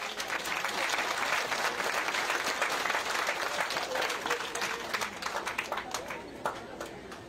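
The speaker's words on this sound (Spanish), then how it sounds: "Un aplauso, por favor." Outdoor crowd applause at the handover ceremony of a new road between Placer de Toachi and Santa Rosa de Mulaute, a full burst of clapping that thins into scattered individual claps toward the end.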